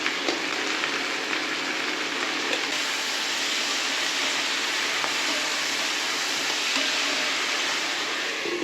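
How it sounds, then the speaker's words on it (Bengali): Chopped vegetables fry lightly in oil with salt and turmeric for a vegetable khichuri, a loud, dense, continuous sizzle heard up close and holding steady throughout, with no voices. "সেই তেলের সঙ্গেই এবার আমি একটু যে সবজিগুলো কেটে রেখেছিলাম সেগুলোকে হালকা ফ্রাই করে নেবো অবশ্যই লবণ হলুদ দিয়ে"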